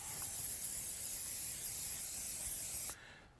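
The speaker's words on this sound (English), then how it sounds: "spray our pan." A single long hiss of cooking spray from an aerosol can onto a pan, steady and close, lasting about three seconds before stopping abruptly.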